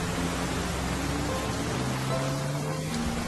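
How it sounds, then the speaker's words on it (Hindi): Heavy rain pours steadily as a dense, even hiss with no let-up, close and fairly loud, with faint low tones running underneath and no voices. "बारिश काफी हो रही है"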